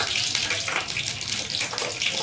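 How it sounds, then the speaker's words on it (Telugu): Mustard seeds crackle in hot oil for an egg curry, a loud, dense, steady hiss of sizzling with fine popping that runs unbroken throughout, with no talk. "ఇప్పుడు కొన్ని ఆవాలు వేసుకుందామండి"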